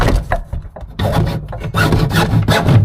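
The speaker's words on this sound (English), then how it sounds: "Axe all that off." An axe hacks and scrapes at copper pipe and a copper cylinder on a driveway, giving a continuous rough grinding and rasping with short pauses between bursts of scraping.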